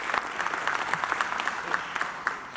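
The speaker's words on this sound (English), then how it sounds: "would you please applaud for your families?" A crowd at a police academy graduation ceremony claps warmly, a steady, mid-distance wash of many hands with scattered sharper claps throughout.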